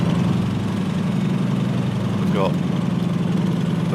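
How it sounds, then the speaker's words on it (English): Aircraft engine idling at about 800 RPM, a steady low droning rumble that fills the whole clip, with a voice speaking briefly over it. "Hopefully what happens then is the engine will settle at about 800 RPM."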